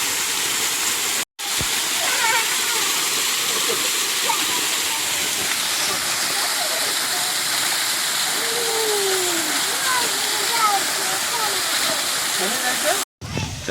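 A roaring outdoor waterfall splashes loud and steady throughout, with children's voices and adult talk mixed over the rushing water.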